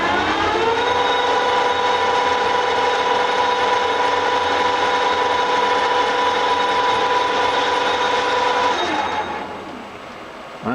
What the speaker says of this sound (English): So let's turn the machine on.